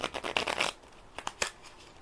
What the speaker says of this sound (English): I'm going to shuffle the new cards into the existing core set library.